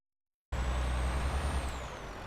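A truck's air brake in Euro Truck Simulator 2 releases with a sudden loud hiss after a short silence, then holds a steady, rushing hiss with a faint thin tone running over it.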